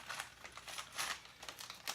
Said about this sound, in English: If I can get this bag open.